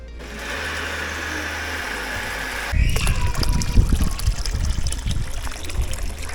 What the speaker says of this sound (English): I'll go and get the watering can and I'll top these up